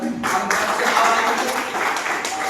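An audience claps steadily at a gathering, a dense, continuous patter of applause held throughout, close and fairly loud.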